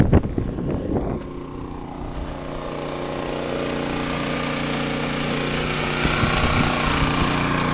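A generator runs aboard a sailboat, heard as a steady, fairly loud mechanical drone with a constant low hum. It settles in after a brief busier sound at the start and continues unchanged, with no talking.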